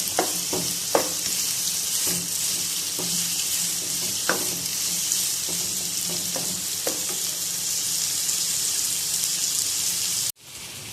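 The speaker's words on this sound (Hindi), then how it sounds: "अब हम इसके अंदर 5 स्लाइसिस में कटे हुए प्याज ऐड करेंगे और इनको ब्राउन कर लेंगे।" Sliced onions frying in hot oil, giving a steady loud sizzle with scattered pops and stirring clicks throughout, ending in a brief cut.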